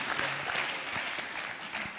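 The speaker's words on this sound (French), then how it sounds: "Merci beaucoup, on les applaudit." An audience applauds finalists at a startup contest final, a soft, distant patter of many hands clapping steadily for a couple of seconds without talk.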